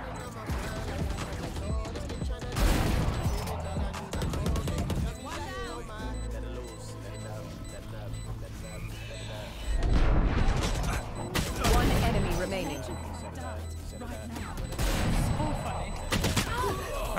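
Gunfire in Valorant: bursts of shots and booming impacts scattered through a busy match, with players talking loudly over the action.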